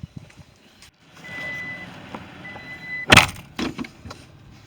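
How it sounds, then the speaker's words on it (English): A truck backing up gives two short electronic reversing beeps, then a sharp loud knock and a few clunks that sound like a door or metal parts, all fairly close and quiet overall. "So you move in your car and I'll move the truck."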